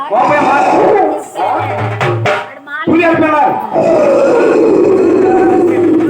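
Tiger roar with low growling grunts in a devotional Telugu stage drama, heard close and loud amid overlapping voices and crowd-like chatter throughout.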